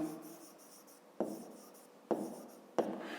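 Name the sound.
writing numbers by hand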